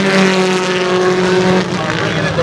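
Rallycross race cars from the 2014 Red Bull Global Rallycross Round 1 roar loudly and steadily, with dense engine noise that stays up close under a commentator's voice.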